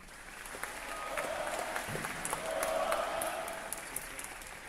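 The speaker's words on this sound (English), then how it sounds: "Please give a round of applause to the Black Knights Battalion Cadets for their awesome tributes" A school Veterans Day assembly crowd claps for the Black Knights Battalion JROTC cadets, sustained applause swelling slightly in the middle, fairly distant, with a few sharper claps and faint crowd murmur.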